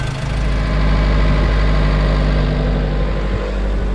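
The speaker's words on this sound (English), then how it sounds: "So we've just got it revving a little bit." A Vauxhall Vivaro diesel van engine, treated with diesel purge to clean a sooty exhaust, runs close by at a raised idle with a deep, constant rumble and slight rev fluctuations, alone without talk.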